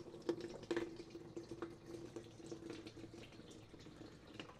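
Engine oil draining from the oil pan of an Allis Chalmers 8030 tractor, a faint steady trickle and splatter of liquid into a catch pan, with no one talking.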